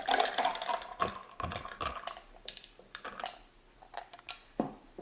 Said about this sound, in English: Of course, I like to add a bunch of ice.